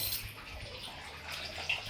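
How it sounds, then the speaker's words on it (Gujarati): Water poured out onto the floor of a washing area in a home, a steady splashing, running wash close by with a brief brighter splash near the end. "અમારે બેન પાણી ઢોળે છે ચોકડીમાં જો"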